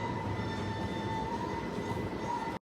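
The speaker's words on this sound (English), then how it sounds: "the train does go up and down the valley" A train on the mountain railway through the Lauterbrunnen valley in Switzerland rumbles steadily past, with a droning hum and a faint tonal whine, loud and continuous until it cuts off abruptly near the end.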